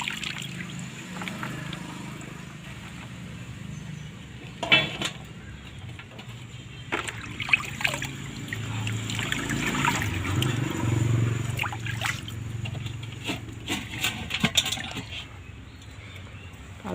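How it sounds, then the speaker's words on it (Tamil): Chopped pirandai (veld grape) stems rinsed by hand in a bowl of water, with soft trickling, sloshing and dribbling splashes throughout, plus a few sharper clinks, close and moderately quiet, with no talking. "இப்போ நல்லா 2 தடவை அலசி எடுத்துக்கலாம்"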